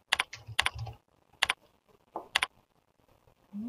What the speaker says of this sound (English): typing too quickly for my own good